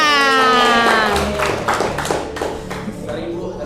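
Clapping from an audience of teachers at a vocational school session breaks out after a drawn-out spoken word, a quick flurry of hand claps with some taps, fairly close and loud, tapering off within a few seconds.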